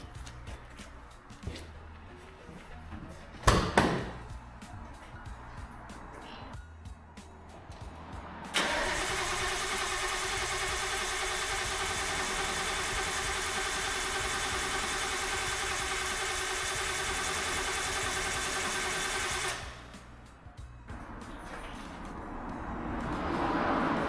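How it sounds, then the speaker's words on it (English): A Nissan Skyline R32 with the ignition unplugged cranks for about eleven seconds to prime a new turbocharger, a loud steady starter whir that never fires, preceded by clicks and a clunk. "I unplugged the ignition system so we can prime the turbocharger and see if this thing's gonna fire up"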